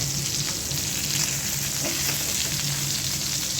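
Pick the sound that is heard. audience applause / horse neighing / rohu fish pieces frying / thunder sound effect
rohu fish pieces frying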